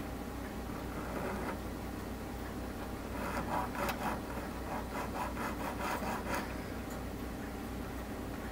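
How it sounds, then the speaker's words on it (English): Fine sanding stick rubbed back and forth on model ship wood, faint rhythmic rasping strokes in a quick series, close but quiet over a low steady room hum. "Maybe I should be using my fine sanding stick on this"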